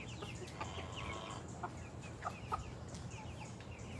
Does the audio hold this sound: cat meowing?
no